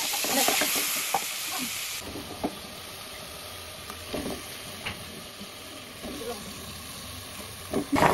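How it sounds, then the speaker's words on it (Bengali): Eggs frying in a pan before vegetables are cooked, giving a steady close hiss of sizzling with occasional soft clicks and knocks from the utensil. "সবজি রান্না করার জন্য প্রথমে ডিম ভেজে নিব।"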